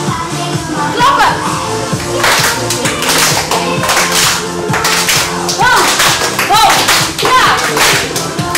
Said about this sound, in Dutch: Klappen.